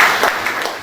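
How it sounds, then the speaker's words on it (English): Audience applause at a magazine launch, a short burst of clapping lasting under a second. "Please join me in a round of applause as I invite him for his address."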